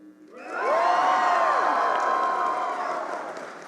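Audience at a fan convention meet-the-voice-actors panel lets out a loud, sustained cheer with whoops and shouts, swelling quickly and holding for several seconds before tapering slightly.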